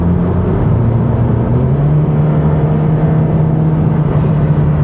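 A 2015 Ford Mustang EcoBoost driving fast, its engine a steady loud drone with a sustained low hum and a slight pitch rise early on, mixed with road and wind noise throughout, no voices.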